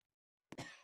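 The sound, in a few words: coughing in Roblox video game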